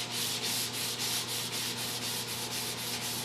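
Hand sanding of polyester primer and 2K primer on an International truck body, rhythmic back-and-forth scratchy strokes at a steady pace of about four per second, close and clear with no talk.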